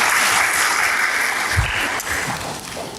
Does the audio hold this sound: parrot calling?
no